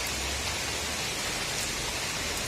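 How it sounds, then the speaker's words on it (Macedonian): Steady August rain falling in a broad, even hiss, soft and continuous with no other sounds over it. "Многу му се радувам на овај дожд"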